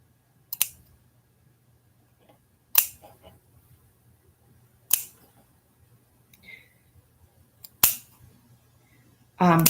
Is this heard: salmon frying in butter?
no